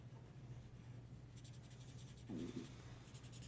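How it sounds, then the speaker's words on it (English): A paper blending torch drags over a pencil drawing of a face on paper, giving a faint close scratchy rubbing in a few short strokes with no voice. "Just drag your torch along it."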